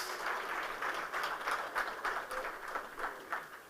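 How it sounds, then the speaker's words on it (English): Scattered audience clapping at a certificate distribution ceremony, with a steady, moderately loud patter of many hands and a few sharper claps standing out. "Give them another round of applause."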